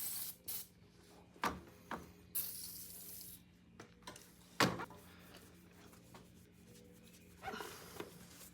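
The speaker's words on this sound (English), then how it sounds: "you spray them down with a little bit of oil." Short bursts of oil being sprayed onto dirtbike parts during a tube change, a few separate hissy spritzes at close range with small clanks and handling noises between them.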